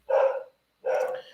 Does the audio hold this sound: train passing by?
no